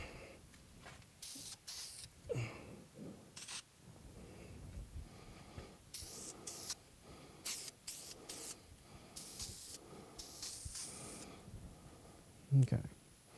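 Finish being sprayed onto a guitar body: repeated short hissing spray bursts, some brief and some sustained, at moderate distance with quiet workshop background.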